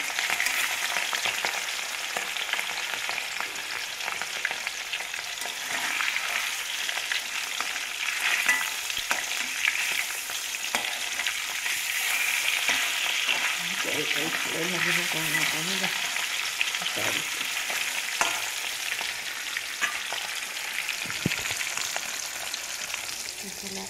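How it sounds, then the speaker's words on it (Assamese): Rohu fish fries in hot oil with a steady, close, bubbling sizzle that lasts throughout, along with occasional faint clinks and a brief murmur in the background. "তেলটো গৰম হৈছে মাছটো দিছোঁ এইটো হ'লে ৰৌ মাছ হয়"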